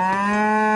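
A cartoon cow gives a single long, steady moo, loud and close, filling the whole moment with no other sounds.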